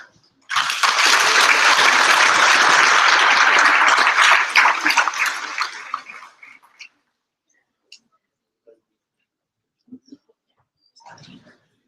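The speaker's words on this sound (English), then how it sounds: "I would like to give him a round of applause" A graduation audience at Munkebjergvej applauds a student about to present his work, a loud burst of clapping for several seconds that tapers off, leaving a few faint rustles and knocks.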